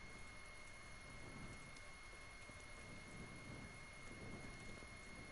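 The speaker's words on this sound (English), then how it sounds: "I wish it wasn't raining." Steady rain falls in the video game Kingdom Come Deliverance, a dense even hiss of rainfall with soft low rumbling underneath, unbroken and moderately quiet throughout.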